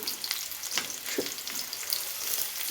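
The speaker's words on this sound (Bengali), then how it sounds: "এখানে আমরা একটু ওই যে পেঁয়াজ দিয়ে দিচ্ছি, পেঁয়াজ কুচিগুলো দিয়ে দিলাম" Chopped onions fry in hot oil with a steady, soft sizzle, crackling faintly throughout and punctuated by a few light stirring scrapes at close range.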